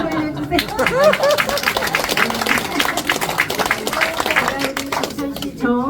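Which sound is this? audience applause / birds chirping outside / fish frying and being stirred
audience applause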